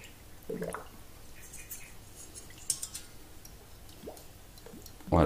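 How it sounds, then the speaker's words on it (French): Water splashes and drips in faint, scattered bursts as an anodized metal part is rinsed, with soft ticks and a louder splash at the end, close by and without speech. "On rince un petit coup pour voir ce que ça donne."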